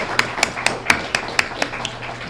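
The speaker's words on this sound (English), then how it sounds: "let's give y'all a big round of applause." Applause at a school Student of the Month ceremony, heard as a sparse run of about eight separate claps spaced evenly, moderately close, with no crowd roar.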